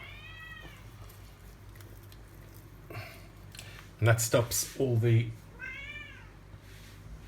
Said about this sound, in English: That's Nero the cat saying hello.